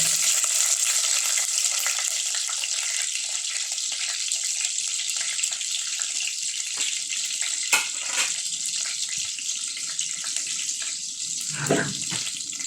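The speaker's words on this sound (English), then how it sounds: "The oil dey hot. So now I'll go in with my onion." Onion frying in hot palm oil, a dense continuous sizzle close up with a few faint clinks, steady and fairly loud throughout.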